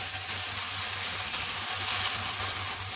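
Capsicum and cabbage stir-fry on high heat with chicken noodles, a steady loud sizzle with a faint low hum beneath, no voices.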